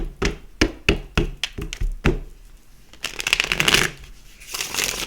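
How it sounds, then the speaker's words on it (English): A deck of tarot cards is shuffled by hand, with a run of sharp riffling snaps and taps followed by a softer, denser flutter of cards sliding together, close and clear. "I'll shuffle the deck."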